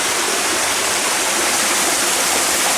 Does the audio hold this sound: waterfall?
yes